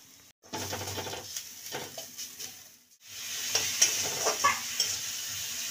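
Ground spices, coriander and cumin powder with salt, fry in a pan with a close, continuous sizzle and repeated stirring scrapes, briefly dropping out twice.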